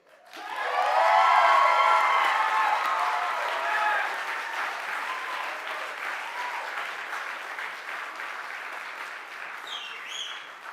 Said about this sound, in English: that's the bigger cheer than I got.